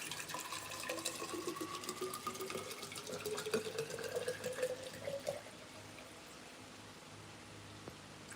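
Tap water running into a container to make salty water, a steady splashing stream for about five seconds that then cuts off, leaving quiet room tone.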